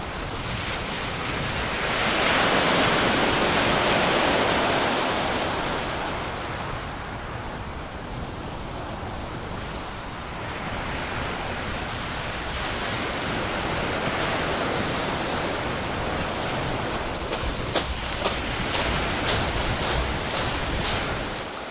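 Sea chop with waves washing onto a shingle beach at Eastney, a steady, loud surf roar under gusting wind buffeting the microphone, with a few sharp crackles near the end.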